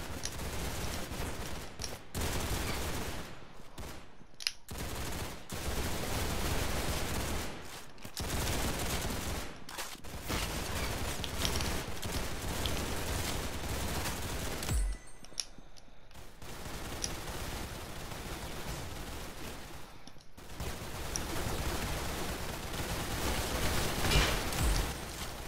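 Rapid gunfire from the video game Arsenal rattles almost nonstop in dense automatic bursts, broken by a few short pauses.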